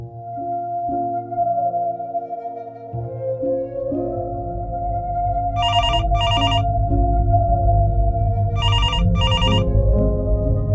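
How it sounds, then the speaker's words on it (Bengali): In a Bengali crime-thriller audio drama, a telephone bell rings in two double bursts over a low, brooding music bed. "সুমন চমকে উঠল টেলিফোনটা আবার বেজে উঠেছে"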